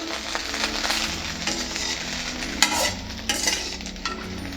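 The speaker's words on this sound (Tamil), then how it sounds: "நல்லா ஈவனாக கலந்து விடுங்க." Egg 65 mixture stirred in a frying pan, a spoon scraping and clinking against metal over a low steady sizzle, close and moderately loud, with no one speaking.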